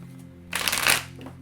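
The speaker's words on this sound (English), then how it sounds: "the deck doesn't want to shuffle anymore" Tarot cards shuffled by hand, a short papery riffle burst of about half a second standing out clearly over a quiet steady background hum.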